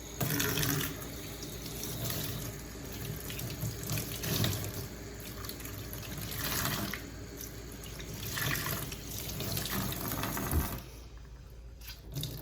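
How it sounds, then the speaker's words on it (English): Tap water runs steadily as a cloth reusable pad is rinsed in a sink, a continuous close splashing that stops abruptly near the end, leaving a quieter tail. "So let me rinse it, and I'll show you what 30 seconds does."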